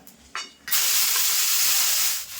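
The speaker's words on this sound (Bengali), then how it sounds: "ফোড়ন ভাজা ভাজা হয়ে গেছে এবার দিয়ে দেবো হচ্ছে পেঁয়াজ বাটা" Onion paste dropped into hot oil already crackling with bay leaf, cumin and dried chillies bursts into a loud, steady sizzle after a brief quieter lead-in, hissing continuously up close with no talking.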